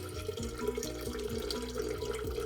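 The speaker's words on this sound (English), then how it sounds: "when I hear water coming out of the tank again" Water runs steadily and gurgles as it drains from a hot water heater tank, a continuous low splashing flow with no voices.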